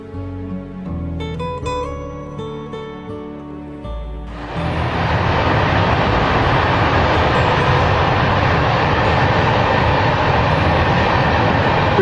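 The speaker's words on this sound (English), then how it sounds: "we're lucky enough to have a train crossing at the time" A train crosses near Connoquenessing Creek, its loud, steady rumbling roar starting abruptly after a few seconds of tonal music and holding strong to the end.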